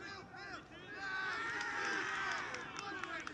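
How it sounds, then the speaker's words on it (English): Crowd at a university rugby union match between Salford and Manchester Metropolitan: a distant, vocal mass of voices and shouts that rises and holds steady, with scattered individual calls standing out. "we've got a good crowd here today, and they're very vocal"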